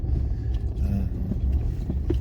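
A car rolling slowly into a crowded auction parking lot, with a steady low engine rumble and road noise close by inside the cabin, plus a few faint knocks and bumps.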